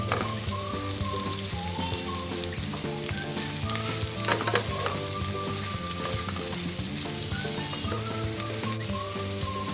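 Bitter gourd frying with shrimp in a pan: a loud, constant close sizzle and crackle running unbroken throughout, with no talk.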